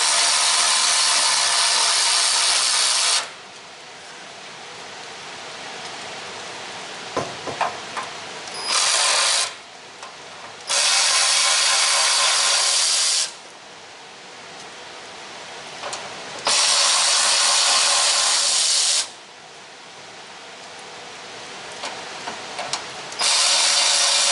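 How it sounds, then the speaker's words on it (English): A handheld power tool runs during mechanical work on a car's fuel tank in a garage, loud whirring bursts several seconds long that start and stop repeatedly, with brief clicks and clatter in the quieter gaps. "now we can use a little bit of power tool"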